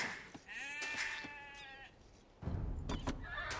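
Sheep bleat in the Age of Empires II strategy game, a wavering, drawn-out bleat followed by a second shorter one, clear and up front over soft in-game ambience and clicks.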